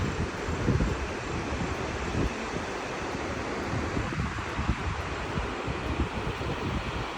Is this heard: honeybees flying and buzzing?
no